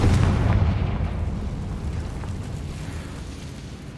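A Confringo blasting spell detonates in Hogwarts Legacy, a single loud rumbling explosion with a heavy low boom that slowly rolls off and fades over several seconds.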